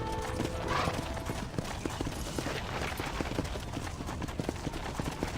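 Horse hooves clip-clop steadily over a dense, noisy background of rumbling and mechanical clatter, from the video game Red Dead Redemption.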